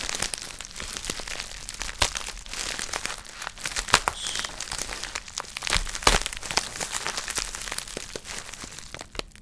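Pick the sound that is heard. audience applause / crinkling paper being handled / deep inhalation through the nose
crinkling paper being handled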